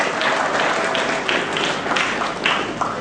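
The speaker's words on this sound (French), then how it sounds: "Sous vos applaudissements s'il vous plaît." Steady audience applause at a church gathering, a dense even patter of clapping that holds for a few seconds without pause.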